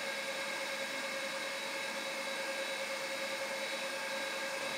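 Arctic S4028-6K fans spin inside 1U rackmount equipment, giving a steady, faint whirring hiss with a constant tone and no change in pitch across the whole stretch.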